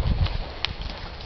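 Horse hooves during a western riding lesson, a soft, muffled thudding of cantering steps in an arena with a faint rhythmic clop under low background noise.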